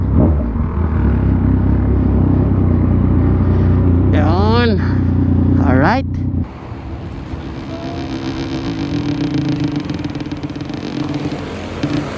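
A motorcycle passes on a road in Tagaytay, its engine rumbling loud and close before sweeping by with a rising then falling whine, and a second brief revving pass follows, with a quieter traffic drone afterward.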